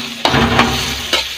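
Hotdogs with onions and tomatoes sizzle in a frying pan while a utensil stirs them, giving a few quick scraping swishes over a steady close crackle, loud and with no talk.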